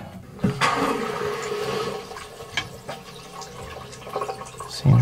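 Water gushes and hisses into a toilet cistern after a stop cock replacement, a steady rushing fill with a few gurgles and knocks, close and fairly loud.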